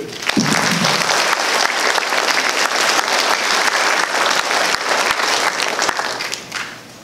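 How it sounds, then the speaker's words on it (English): An audience at an electric cooperative's annual meeting breaks into loud, sustained applause for cooperative employees. The clapping fills the hall and carries on evenly before tapering off near the end. "giving them a round of applause"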